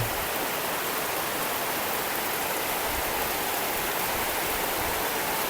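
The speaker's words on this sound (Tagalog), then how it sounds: "Ang lakas po talaga ng ulan." Loud, unbroken roar of heavy rain, a thick, even hiss that fills the whole scene without letting up.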